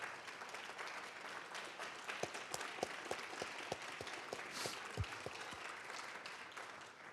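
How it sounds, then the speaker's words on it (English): Audience applause at an annual institute celebration, a steady wash of many hands clapping from a sizable crowd, moderately distant, with sharper individual claps standing out throughout. "you all deserve an applause from all of us"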